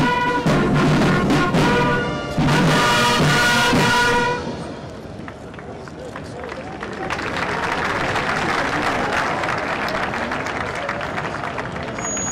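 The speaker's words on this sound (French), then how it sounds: "sous vos applaudissements s'il vous plaît" Loud crowd applause and cheering at a ceremony honoring veterans, organized by the national armed forces cultural center. A horn-like tone sounds over the applause in the first seconds, and the clapping carries on steadily afterward.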